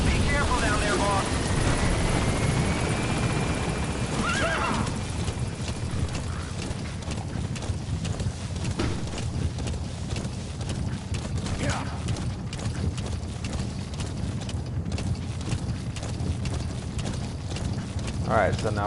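D-Horse trots in Metal Gear Solid 5, a steady clip-clop of hooves under a continuous low rumble, with someone talking over it throughout.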